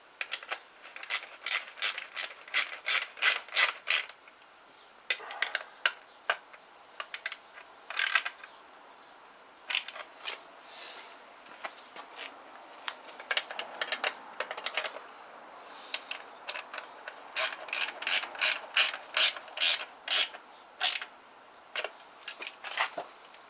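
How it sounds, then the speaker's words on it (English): A hand ratchet tightening bolts on a Keeway RKV125 motorcycle, rapid bursts of sharp clicking strokes repeated in runs with short pauses, close and fairly quiet with no talking. "I'm going to ratchet and we'll just knit them up"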